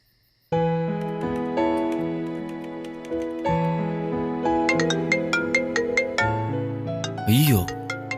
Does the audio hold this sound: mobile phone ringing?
yes